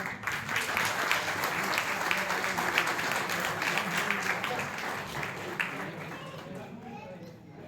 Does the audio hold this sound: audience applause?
yes